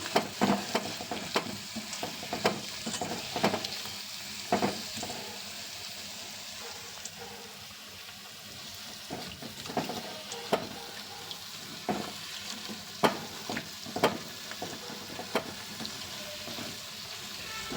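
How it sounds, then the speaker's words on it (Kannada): Raw plantain kebabs fry on a medium flame with a soft, continuous bubbling sizzle, punctuated by sharper crackles and occasional stirring clatters at close range; no one speaks. "ಈಗ ಇದು ಬೇಯ್ತಾ ಇದೆ ಮೀಡಿಯಮ್ ಉರಿಯಲ್ಲಿ ಇಟ್ಕೊಂಡು ಚೆನ್ನಾಗಿ ಬೇಯಿಸ್ಕೋಬೇಕು"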